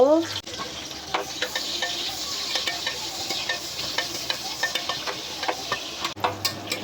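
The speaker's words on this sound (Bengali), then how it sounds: "তেল দিয়ে দিলাম, পেঁয়াজ দিয়ে দিলাম, ভালো করে ভেজে নিব" Onions frying in hot oil in a home kitchen, a constant crackling sizzle with frequent light clicks and scrapes of stirring, fairly close and without talk.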